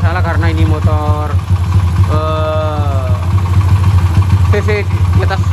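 A fuel-injected motorcycle of over 200 cc running on a test ride, its steady low engine rumble sitting under a man's close speech.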